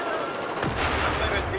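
Dense, continuous gunfire from a Battlefield first-person shooter game, loud and close, with rapid shots blending into a steady roar.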